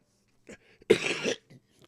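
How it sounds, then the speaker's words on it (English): A man gives a single harsh, close cough with a short throaty lead-in and a faint breath after, loud against an otherwise quiet background. "I'm still coughing."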